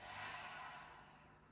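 Slow exhale out through the mouth during a gentle vinyasa yoga breathing exercise, a single soft, airy breath fading over about a second and a half, close and quiet with no talking.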